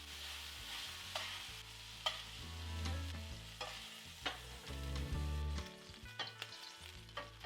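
Beef chunks for a teriyaki stir fry browning in a hot pan, with a soft, steady sizzle and repeated scraping stirs, fairly quiet throughout.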